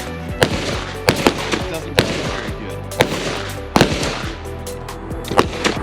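Glock 20 OEM pistol firing 220-grain hardcast rounds, six sharp gunshots spaced at irregular intervals of roughly a second, loud and close, with ringing reports between shots.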